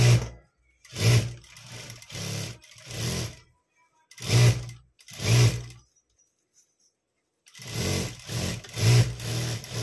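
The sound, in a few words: sewing machine stitching a blouse sleeve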